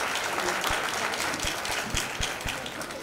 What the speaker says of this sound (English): let's give the wonderful principal and students and parents a Forest Hill School a round of applause